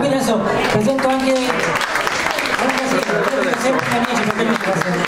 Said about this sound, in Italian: un altro applauso qui